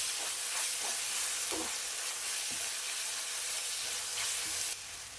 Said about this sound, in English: Keep frying these spices until the onions are nicely browned and fragrant.